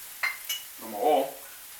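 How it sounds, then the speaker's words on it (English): Vegetables sauté in oil in a pan for Mexican street corn tacos, with a couple of quick utensil clinks followed by a swelling sizzle and stirring scrape that rises, then eases off. "I'm just going to saute this up for another few minutes"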